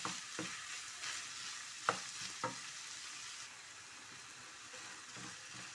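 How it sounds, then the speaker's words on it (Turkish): Tomatoes frying in a pan for moussaka, giving a steady broadband sizzle with a few sharp stirring clicks and scrapes near the start, continuing evenly and fairly quietly to the end. "Evet domateslerimiz de kavruldu"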